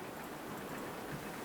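Rain falling in a RollerCoaster Tycoon park, a soft, even wash of patter and hiss that stays faint and constant for the brief moment, with no voices over it.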